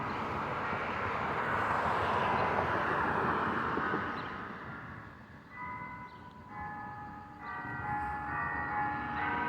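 Church bells ring out at 5 pm, distant and steady, their tones emerging clearly in the second half over a broad rumble that resembles passing traffic or aircraft.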